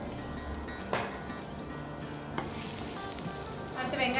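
Green chilies fry in hot oil with cinnamon, cloves and fennel seeds for a spicy paneer pepper fry, a steady loud sizzle with a couple of sharp stirring clatters near the pan.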